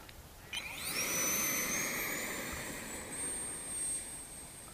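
An HK Tornado Viper RC jet fitted with a JP Hobby 70mm all-aluminum 6S electric ducted fan spools up suddenly into a steady high-pitched whine and whoosh, loud and nearby, holding with slight pitch shifts.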